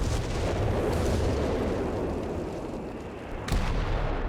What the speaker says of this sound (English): they're getting cleared up with the howitzer